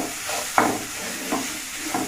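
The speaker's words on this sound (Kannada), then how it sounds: "ಚಿಲ್ಲಿ ಪೌಡ್ರು, ಸ್ವಲ್ಪ ಸೋಯಾ ಸಾಸು, ಆ್ಯಡ್ ಮಾಡಿ ನೀಟಾಗಿ ಫ್ರೈ ಮಾಡ್ತೀನಿ." Frying with chili powder and soy sauce for baby corn noodles: a brief close sizzle and hiss in a pan with a couple of soft stirring scrapes.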